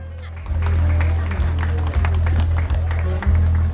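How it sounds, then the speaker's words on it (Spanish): Audience applause at a carnival coronation in Barrio Calvario, San Alejo, steady crowd clapping mixed with a loud pulsing low bass beat from the stage sound system. "Nuevamente fuerte el aplauso y los despedimos del escenario."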